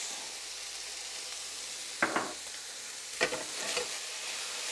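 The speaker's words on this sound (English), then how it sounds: "Next up, we're going to add in the whole peppercorns. They're going to toast up, and we're going to add in the 4 bay leaves." Whole peppercorns and bay leaves dropped into a hot pan for a Filipino dish, a steady soft sizzle with a few brief bursts of crackling and stirring.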